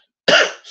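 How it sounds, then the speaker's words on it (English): A single close, abrupt cough with a harsh burst and a short trailing tail, alone against silence. "As I'm coughing. Sorry, y'all."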